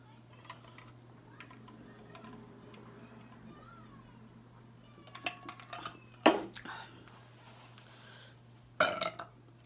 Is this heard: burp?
yes